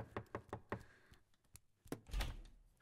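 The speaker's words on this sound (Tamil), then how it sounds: "யார கதவு தட்டுறாங்க?" Knocking on a door, a quick run of four raps followed by a couple of heavier, more spaced thuds and a loud bang near the end, close and clear with no talking.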